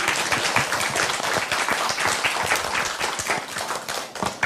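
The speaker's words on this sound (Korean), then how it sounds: "박수 부탁드리겠습니다." Loud, close applause from a seated audience welcoming a violinist at a literary performance event, dense and continuous, tapering slightly toward the end.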